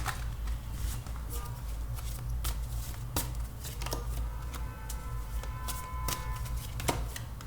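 Oracle cards being handled and shuffled for a tarot-style reading: soft repeated card flicks and slides, close and fairly steady, over a constant low background hum.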